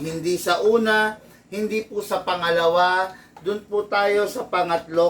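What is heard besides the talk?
No everyday noise stands out behind the speech.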